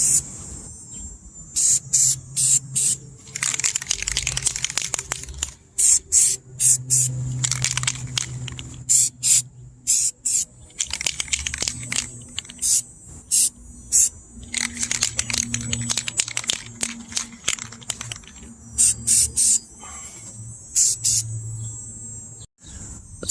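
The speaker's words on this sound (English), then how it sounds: "now I'm going to shake myself up a can of rust reformer primer to dig into this metal" Rust reformer primer sprays from a shaken aerosol can onto rusty metal in repeated close hissing bursts, mixed with sharp rattling clicks and a low background hum.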